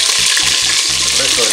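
Chicken pieces frying in hot oil give a loud, steady, close sizzle, a dense hiss with bubbling crackle throughout.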